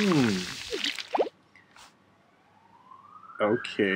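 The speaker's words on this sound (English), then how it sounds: "I apologize for the siren going around in the neighborhood." A thin siren tone rises slowly in the distance, faint under quiet surroundings, with a person speaking briefly at the start and end.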